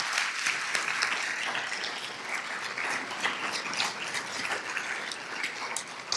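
An event audience applauds honorees over 70 with a steady, even round of clapping that holds at moderate volume for several seconds, heard alone without voices.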